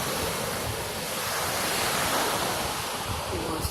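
Pacific Ocean surf breaking where a surfer rides, a continuous broad wash of crashing waves heard from the shore, with wind buffeting the microphone throughout.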